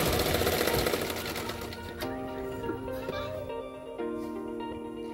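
Sewing machine stitching the cup shaping of a katori blouse, running loud and close at first, then continuing with a steady mechanical whir.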